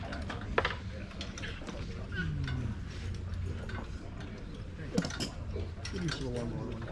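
A hand ratchet clicks while snugging down the distributor on a Ford Model A, quiet rapid ticking runs under background voices and faint outdoor commotion.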